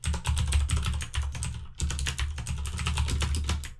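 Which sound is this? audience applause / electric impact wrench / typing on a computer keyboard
typing on a computer keyboard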